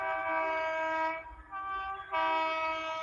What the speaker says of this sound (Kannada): ಬಂತು ಟ್ರೈನ್